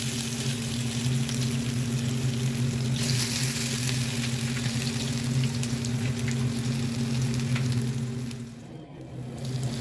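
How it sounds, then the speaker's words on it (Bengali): Malabar spinach fritters fry in a wok of hot oil, giving a steady, close, even sizzle that crackles continuously and then briefly dips near the end. No voices are present. "এরপরে দু সাইডে ভালো করে ভেজে নিতে হবে।"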